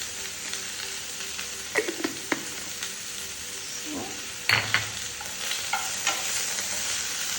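Cumin seeds fry in hot oil for sambar, giving a constant sizzle with a few sharp spoon scrapes and clinks against the pan, close and clear with no talking.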